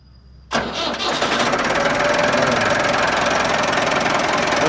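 A turbo tractor is started with its self-starter: a short whir from the starter, then the engine fires abruptly and settles into a loud, rough, steady running roar up close.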